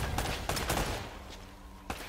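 Gunfire in Uncharted: Drake's Fortune, a burst of shots followed by a second volley, then a pause with a faint hum and one final loud shot near the end.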